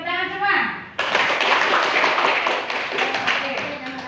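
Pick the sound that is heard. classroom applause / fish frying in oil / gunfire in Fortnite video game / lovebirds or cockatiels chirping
classroom applause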